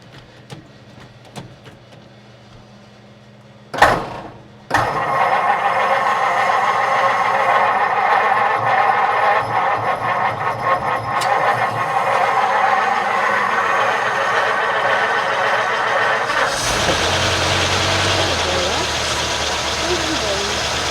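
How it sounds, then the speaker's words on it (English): A 1949 Mercury Meteor with 37,000 original miles, in neutral, cranks briefly and then starts and settles into a steady, loud, somewhat rough idle that runs on to the end. People talk over it. "make sure it's in neutral, and then crank it over, see what happens"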